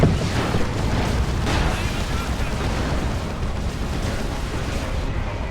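Basilisk artillery barrage in a Warhammer 40,000: Dawn of War 2 battle between Imperial Guard and Ordo Malleus. A loud, continuous wash of booming blasts and rumbling explosions keeps up steadily to the end, with no clear talk over it.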